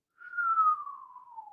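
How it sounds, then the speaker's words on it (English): A person whistles a single sustained note that slides slowly downward, clear and close, with no other sounds around it. "that was a terrible whistle right there"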